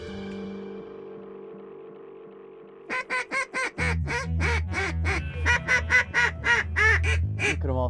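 Widgeon and mallard ducks quack and call in a rapid series of loud, close bursts over a steady low hum during a Nebraska waterfowl hunt, with no speech.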